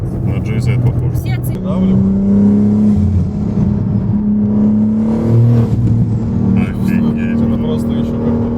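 A BMW M5 G90 with a stroker engine revs and pulls hard from inside the cabin, its rising and falling drone loud and close while occupants talk over it.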